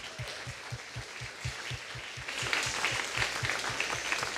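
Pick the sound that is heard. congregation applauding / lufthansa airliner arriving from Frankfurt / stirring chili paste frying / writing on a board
congregation applauding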